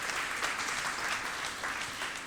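A church congregation applauds the Lord with a sustained, even wave of clapping from many hands, filling the hall steadily with no break.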